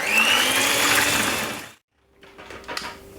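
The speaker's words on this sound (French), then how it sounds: "on va fouetter le tout pour le monter donc en chantilly" An electric mixer whips cream into chantilly, a loud steady whirring drone that stops abruptly, followed by faint clinks and rustling.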